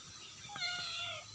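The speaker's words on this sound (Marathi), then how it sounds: "हे बघा आमचं हे मांजर." A house cat gives a single short meow, faint and fairly close, over quiet rural background noise.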